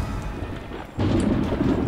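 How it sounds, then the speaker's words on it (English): Thunder and rain in the Western video game Call of Juarez, with steady rainfall and a low rolling rumble of thunder that swells up halfway through. "Storm's coming in."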